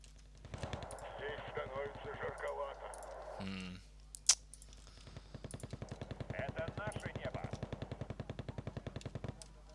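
Gunfire in the Wargame Red Dragon strategy game rattles in rapid bursts of automatic fire, with a sharp single crack partway through, heard under a player talking.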